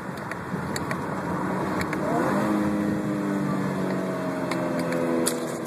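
A 2012 Chevrolet Camaro V6 engine rises in pitch as it revs through a manual-mode downshift, heard steadily from inside the car over road noise, with no talking.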